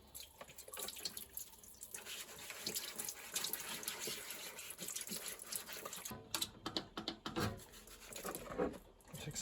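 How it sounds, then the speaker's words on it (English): A heat pump tumble dryer's filter gauze is rinsed under a running tap, with soft, close splashing and rubbing sounds that rise and fall. "we'll give it a rinse out then"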